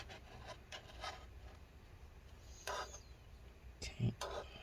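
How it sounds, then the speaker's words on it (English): Scrubbing gunk from a 2012 15-inch MacBook Pro A1398 with rubbing alcohol, heard as faint, close, intermittent brushing and rubbing strokes over a quiet background. "That means we need more rubbing alcohol for this one. Alright, let's get all this gunk out."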